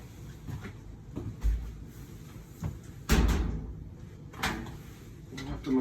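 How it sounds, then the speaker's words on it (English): A door swings and knocks against a faulty door stop several times, giving a few irregular dull thumps and rattles, the loudest near the middle, with quiet background sound between hits. "You ever had a door stop that just will not stop a door?"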